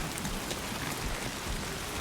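Steady rain pours down across open ground in the video game Death Stranding 2: On the Beach, an even, dense hiss of drops with no pause, heard on its own without voices or thunder.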